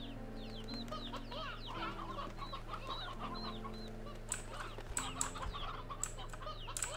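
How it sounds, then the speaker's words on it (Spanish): In Slime Rancher 2, a hen clucks and chirps in quick repeated bursts over a steady background hum of game ambience, and sharper clicks and pops join in toward the end. "Gallina mayor."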